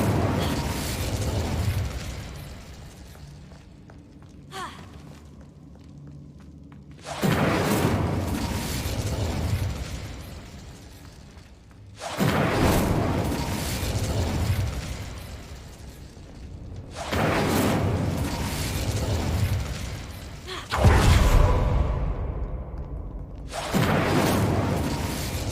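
Incendio fire spell in Hogwarts Legacy: a series of loud roaring fiery bursts, about five spaced a few seconds apart, each decaying into a quieter lull.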